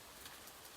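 Soft, steady rain falls in a continuous faint hiss of drops, brief and without voices.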